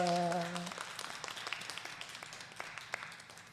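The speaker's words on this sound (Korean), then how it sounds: "우리 환영하는 박수 한번 합시다." A congregation at a Korean Sunday church service claps to welcome a church member: scattered, fairly faint handclaps that follow a brief tone and gradually taper off.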